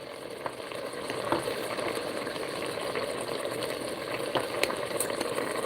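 Onions and garlic sizzle and fry steadily in a pan while being cooked, a constant dense crackle with occasional louder pops, close and alone with no talking.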